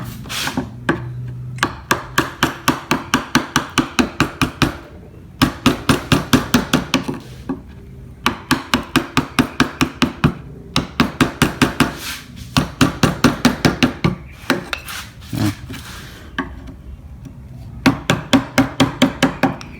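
Steady bursts of sharp rhythmic taps from a chisel struck into wood during a carving lesson, coming in rapid runs of strikes separated by short pauses, close and fairly loud with no talking.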